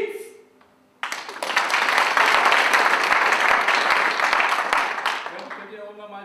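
A hall audience breaks into sustained, dense applause after a short pause, holding steady for several seconds before tapering off as a voice resumes.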